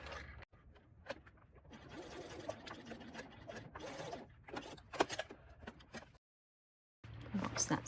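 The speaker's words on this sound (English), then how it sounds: "Just sew along as far as you can while still keeping that lining smooth under your presser foot" A sewing machine runs a seam along a lining under the presser foot, its motor whirring in bursts with short pauses and stops, close and fairly quiet, before a brief silence and a final louder run.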